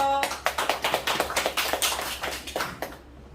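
Audience clapping at a poetry lecture, before a poem is recited: a brief burst of distinct claps builds into steady applause of a small group, close and clear, then cuts off.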